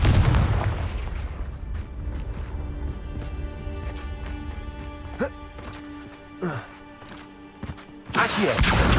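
A fire-spell explosion in Hogwarts Legacy: a heavy booming burst opens loudly and decays into a long rumbling tail, with lighter impacts scattered through and another loud blast at the end, while a voice speaks in between.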